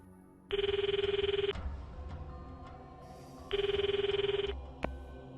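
A phone call ringing in the visual novel game Steins;Gate 0: two electronic ring bursts about three seconds apart, each a trilling tone lasting roughly a second, clear and close over quiet background music, with no talking.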